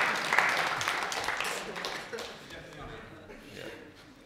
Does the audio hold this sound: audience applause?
yes